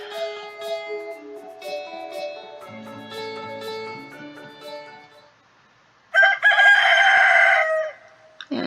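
Rooster crowing in Stardew Valley, a loud, close cock-a-doodle-doo bursting out near the end after a stretch of gentle chiming game music.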